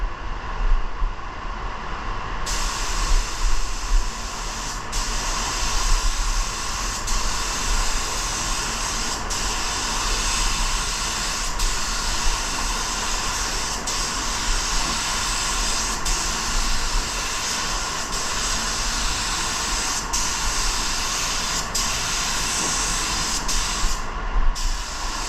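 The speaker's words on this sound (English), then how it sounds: "I'm gonna be applying the sealer right there. It's from Eurochem and it's a light gray sealer." A spray gun lays down Eurochem light gray sealer in an auto paint job, giving a long, steady, loud hiss of atomized spray with occasional brief clicks of the trigger and no speech.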